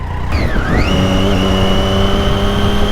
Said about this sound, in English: I've really grown to love the noise this inline 3 from Triumph makes.